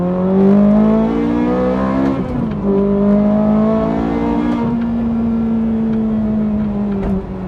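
A Ferrari 430 Scuderia V8 screams up through the revs under hard acceleration, with rising engine pitch climbing sharply, dropping briefly at quick gear changes and climbing again, loud and close from inside the car.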